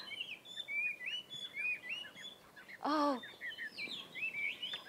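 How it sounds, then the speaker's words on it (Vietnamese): Several small birds chirp and trill in rapid, overlapping phrases throughout, fairly close and steady, with one louder burst of song near the middle. "lũ chim hót hay quá"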